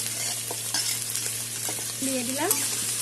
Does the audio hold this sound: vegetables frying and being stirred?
yes